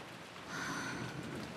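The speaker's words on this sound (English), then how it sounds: "Let the sound of the rain calm you down." Rain falls in Umineko When They Cry, a steady soft hiss of drops that swells slightly partway through and stays even and close, with no voices.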